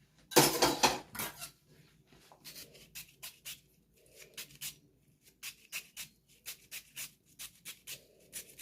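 A large knife cuts through onions on a board, with a loud first chop followed by a quick run of sharp, crisp knife strikes and clicks in an irregular rhythm, close by and with no voices.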